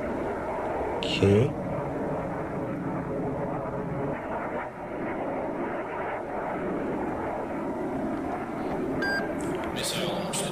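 Jet aircraft roaring overhead in the naval combat game Cold Waters, a steady loud broadband engine rumble with electronic warning beeps near the start and end and a brief spoken word.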